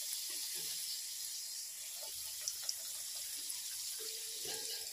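Papri dough pieces fry in hot oil over a medium gas flame, giving a soft, steady, continuous sizzle and hiss that stays faint and even throughout, with no talking.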